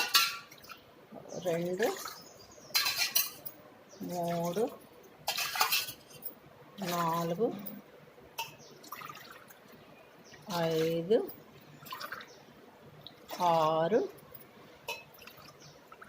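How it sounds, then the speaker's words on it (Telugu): Glassfuls of water poured one after another into a cooking pot, brief splashing gushes alternating with a voice counting aloud, the pours and speech trading off in a regular rhythm. "7 గ్లాసులు వాటర్ వేస్తున్నాను నేను."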